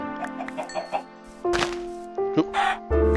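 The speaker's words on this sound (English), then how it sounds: "Kill those chickens." Chickens in the Minecraft Hexxit modpack give a string of loud, close clucks and squawks. Sharp hit sounds and a few pitched game tones mix in as they are attacked.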